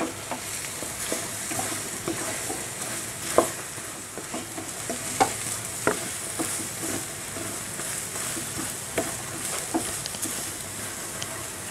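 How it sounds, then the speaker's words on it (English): Ridged luffa fries in a pan with a steady sizzle while a utensil stirs it, giving scattered scrapes and taps. The sound is fairly close and carries no talk. "Now add ridged loofah. Mix it nicely."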